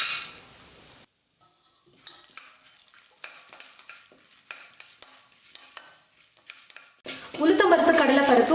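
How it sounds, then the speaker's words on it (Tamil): Mustard seeds, chana dal and urad dal fry in hot oil in a kadai, with scattered crackling pops and spoon stirring and scraping, building to a loud steady sizzle at the end. "கடுகு நல்லா பொரிஞ்சதும் 1 ஸ்பூன் கடலைப்பருப்பு 1 ஸ்பூன் உளுத்தம்பருப்பு சேர்த்துக்கிறேன்."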